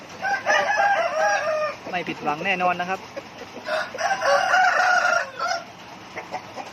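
A breeding rooster crows loudly and close by, one long crow standing out amid clucking from other fowl, with a voice speaking briefly over the birds.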